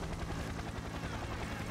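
A helicopter in the video game Payday 2 gives a steady, dense rotor roar throughout, faint and continuous with no pauses.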